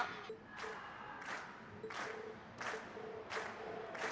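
Game crowd in Trails of Cold Steel cheering after a performance, a steady roar of voices with bursts of applause-like swells rising roughly every half second to second throughout.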